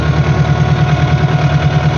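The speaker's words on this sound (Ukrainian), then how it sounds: "ось жену трактора" A tractor engine runs steadily during spring sowing of barley and grass mix, a continuous low idling drone with a firm pulsing rumble, close and moderately loud, with no voices.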